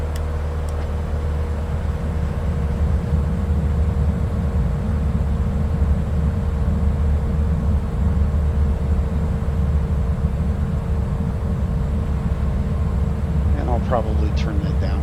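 A steady, even rush of wind noise from lowered aircraft flaps over a low engine drone fills the cabin in a flight simulator game, constant and unbroken throughout.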